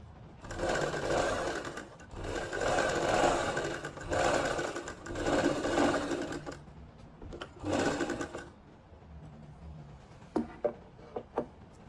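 Sewing machine running a straight seam on palazzo trousers: several sustained whirring bursts of stitching separated by short pauses, then a few sharp clicks of fabric handling at the end, close and loud with no talk.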